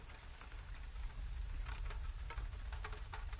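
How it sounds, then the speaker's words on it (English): Gentle rain falls on lamp-lit old London streets as a soft, even hiss with scattered patter, steady and unbroken, with no voices. "The rain continues its peaceful fall"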